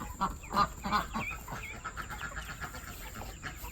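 Several chickens cluck and chatter close by, short bursts at first, then softer continuous murmuring.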